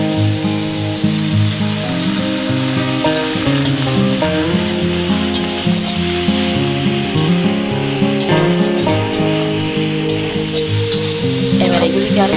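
Tomatoes going into mixed vegetables frying in a pan, a loud, constant sizzle with stirring scrapes beneath a steady tonal hum, heard close up with no speech.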